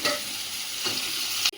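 Goat meat frying in a pan with dried chilli, onion, ginger and garlic paste, stirred steadily: a loud continuous sizzle with scraping strokes, a brief clatter of the spatula at the end.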